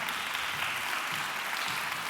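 Audience at a business association assembly applauding, a steady dense wash of clapping from many hands throughout, moderately loud and even with no talk over it.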